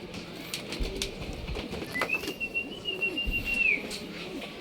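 Racing pigeons landing on a rooftop during a fun race in Quezon: wings flap and clatter nearby, with soft pigeon coos over an outdoor background.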